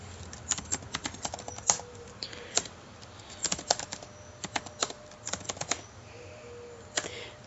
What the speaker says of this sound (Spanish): para hacer ese salto lo hago con la tecla de tabulación